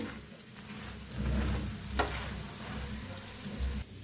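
Dahi dhapate flatbread roasting on a hot pan gives a steady, soft sizzle and crackle that swells slightly and continues throughout, close up and without speech.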